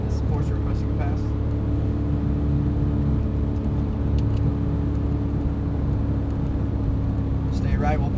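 A Porsche 911 GT3 on a Texas race track gives a constant loud engine drone and road rumble from inside the cabin while someone talks over it.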